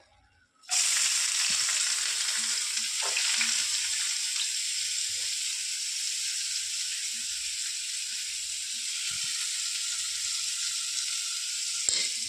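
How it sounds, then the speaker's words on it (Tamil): Onions going into a pan of hot oil with fennel, cardamom and bay leaf, a sudden loud hiss that settles into a steady sizzle with a few soft stirring knocks, no voices. "இப்போ கொஞ்சம் ஆனியன் சேர்த்துக்கலாம்."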